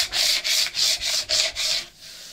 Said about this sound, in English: I'm just going to use my scraper, and I'm just going to smooth that right out